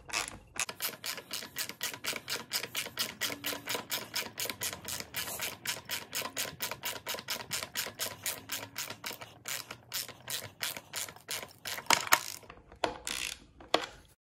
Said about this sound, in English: It's also able to put that fastener back in, and I can put it back in completely.